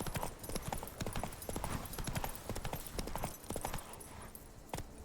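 Roach the horse gallops in The Witcher 3: Blood and Wine, with steady clip-clop hoofbeats drumming up close for several seconds over a wind-swept game ambience and a short break near the end.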